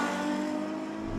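A Ferrari F12 Berlinetta engine revs hard and loud on the track at Mazda Raceway Laguna Seca, a sustained rising roar with no voices over it.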